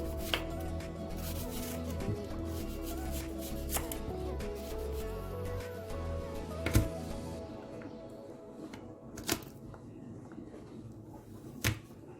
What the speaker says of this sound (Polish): a czosnek wystarczy rozgnieść nożem